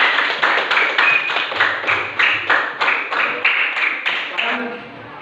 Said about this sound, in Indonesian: berikan tepuk tangan dulu untuk